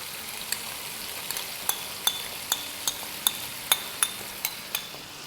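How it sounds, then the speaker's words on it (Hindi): Chicken and potato pieces fry in a pot for white chicken pulao, a soft sizzle running throughout while a spoon clinks against the pot about a dozen times in a rough stirring rhythm, close and without talk. "चिकन को, आलूओं को फ्राई होते हुए 2-3 मिनट हो गए हैं।"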